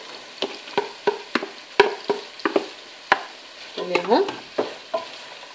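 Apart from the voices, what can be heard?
chicken pastilla briouats frying in oil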